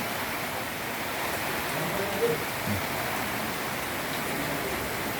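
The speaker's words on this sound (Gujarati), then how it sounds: "વરસાદ ચાલુ છે બે ધનાધન જો વરસાદ ચાલુ છે ને" Heavy rain pouring down steadily around a home, a dense, unbroken hiss that stays even and close throughout, with no voices.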